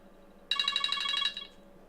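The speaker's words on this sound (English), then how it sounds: "Oh, there's my phone." A mobile phone ringtone starts abruptly and plays loud and close for about a second, a bright warbling electronic ring that then cuts off, with a quiet room behind it.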